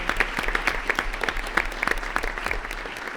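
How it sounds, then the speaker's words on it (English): An audience at a board of education meeting applauds honors chorus students with close, distinct hand claps in an uneven patter over a low steady hum. "Let's give them a round of applause again."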